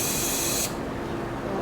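Duplicolor engine paint sprayed from an aerosol can into its cap for a vintage Yamaha XS650 touch-up: a loud, steady close hiss for about two thirds of a second, then it cuts off, leaving quiet room noise.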